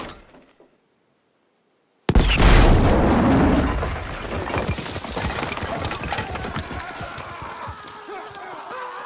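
A single loud cannon blast in the video game Battlefield V bursts out after a moment of silence, then trails off in a long rumbling decay with mechanical clatter and no talking.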